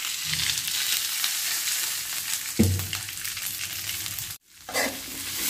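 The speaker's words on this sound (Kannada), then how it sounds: "ನೋಡಿ, ಇವಾಗ ಒಂದು ಸ್ವಲ್ಪ ಎಣ್ಣೆ ಹಾಕ್ಕೊಳ್ತೀನಿ." Oil hisses in a hot pan for an okra gojju, a continuous close sizzle with a couple of heavier scrapes and a brief dropout near the end.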